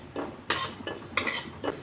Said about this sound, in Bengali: প্রথমে শুকনো কড়াইয়ে 1 চামচ 5 ফোড়ন ড্রাই রোস্ট করে নিচ্ছি।